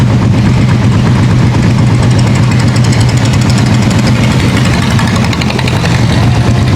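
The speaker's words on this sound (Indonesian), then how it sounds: "Ini ada kapal yang lewat juga." Loud, steady engine drone of a boat passing along a canal off the Kelayan River in Banjarmasin, a continuous rumbling throb close by with no talk over it.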